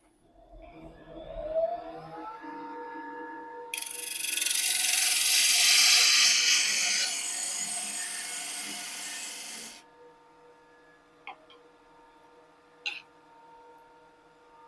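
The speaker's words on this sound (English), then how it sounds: "We can also make the same kind of cove, this time using the spindle gouge." A spindle gouge cuts a cove into spinning wood on a lathe, producing a steady, loud scraping hiss that lasts several seconds over the lathe's whining hum, followed by a couple of light taps.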